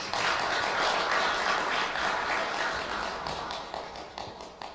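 Congregation applauding at a Buddhist Sunday dharma service, a steady broadband patter of many hands that holds loud, then thins and fades toward the end.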